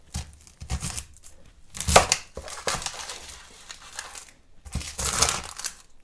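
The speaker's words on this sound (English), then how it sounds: "Just a really rough chop again." A large onion, skin left on, is roughly chopped with a knife on a board, giving several crisp, irregular chopping and crunching bursts close by with short pauses between them.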